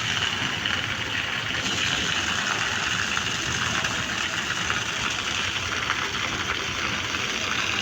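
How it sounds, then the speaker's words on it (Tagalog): Steady, dense rain hisses continuously at an even level, like a heavy downpour on a surface nearby, with no voices, during a day-and-night storm with near-flooding. "ulan na naman."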